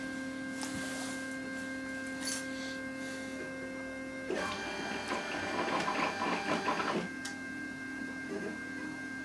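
A homemade CNC machine drives its axes back to the zero position, a steady stepper-motor whine over constant electrical hum, swelling into a louder buzzing run for a few seconds before settling back to idle tone.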